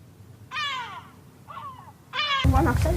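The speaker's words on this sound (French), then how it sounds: "Les nouveaux gardiens du fort, ce sont ces goélands." Several seagull calls ring out in short bursts, loud and near, at the Château d'If fortress, with a voice breaking in at the end.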